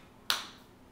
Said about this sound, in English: If you're happy and you know it, clap your hands.